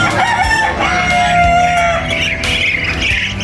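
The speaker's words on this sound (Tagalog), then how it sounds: "This is my female Amarquana hen." An Ameraucana hen in a backyard farm gives loud, close clucking and squawking calls, with a rooster crowing mixed in over a busy farmyard background.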